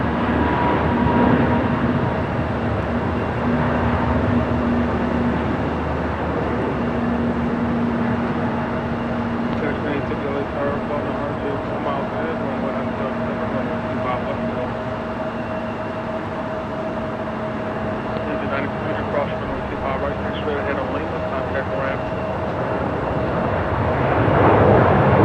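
An American Airlines A321 jet takes off on runway 25 Right at LAX, a sustained engine rumble and roar with tonal hums, steady and fairly loud while someone talks over it.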